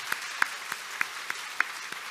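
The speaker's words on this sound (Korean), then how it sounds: "박수 한번 치십시다." A church congregation claps in a quick, loose burst of separate sharp claps spaced about a third of a second apart, fairly faint and roomy, without talk.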